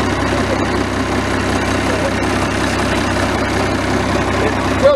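International 466 diesel engine idling in a 1981 International 1854S truck with 143,000 miles, a steady low rumbling chug running evenly throughout.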